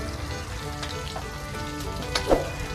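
Thai omelette with fermented pork (naem) frying in a pan, a steady dense sizzle and crackle throughout, close and even, with a brief sharper spatter near the end.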